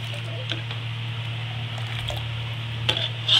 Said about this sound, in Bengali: এবার আমি এর মধ্যে চাল ডাল দিয়ে দিলাম।